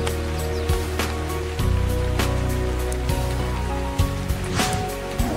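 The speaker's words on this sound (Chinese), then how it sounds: "盔甲还没做出来就开始下雨了" Rain falls in the survival game ARK, a steady broadband hiss under sustained musical tones, with a few sharper bumps along the way.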